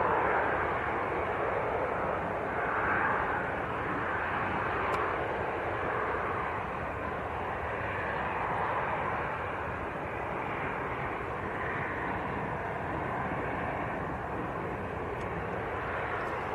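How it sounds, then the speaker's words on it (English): EasyJet airliner taking off at Manchester Airport, bound for Rome: a broad, steady jet roar heard from a distance, sustained and even, with a soft rising and falling swell over the whole stretch. "So the EasyJet that just took off was going to Rome."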